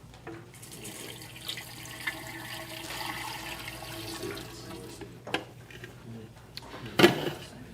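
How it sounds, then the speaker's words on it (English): Water poured from a container into an ice cream machine for guava cream ice, a soft uneven trickling and splashing with a few clunks and a sharp knock near the end. "So we'll pour in the water."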